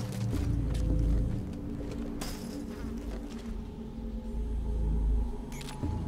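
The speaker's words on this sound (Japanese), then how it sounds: "なんかカメラの音せん？" In the stealth video game Metal Gear Solid V: Ground Zeroes, a security camera whirs and clicks faintly amid a steady low mechanical drone and game ambience, with a few brief sharp ticks and no talking.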